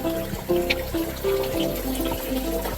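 Cold, natural spring-fed water trickles steadily through a small springhouse used for cooling food in Cades Cove, Great Smoky Mountains, a close, continuous gentle flow with no voices.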